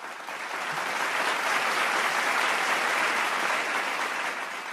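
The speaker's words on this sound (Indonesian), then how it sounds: "Boleh saya dengarkan sekali lagi tepuk tangannya?" An audience gives steady, sustained applause at an Indonesian civil-service core values and employer branding launch event, with dense clapping that holds at an even volume for the whole stretch.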